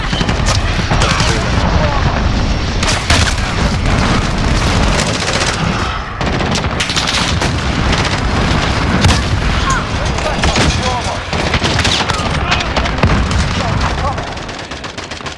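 Heavy explosions and rattling gunfire in Modern Warfare as enemy cruise missiles strike, a dense, loud barrage of booms and bursts that barely lets up, with a voice talking over it in places.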